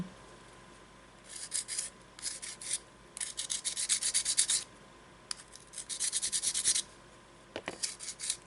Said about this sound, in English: I will start by first of all using sandpaper to